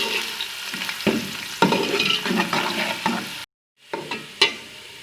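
Chopped onions fry in a cup of oil over a medium flame while being stirred for pulao, giving a steady close sizzle with irregular scraping clunks and a brief silent gap near the end.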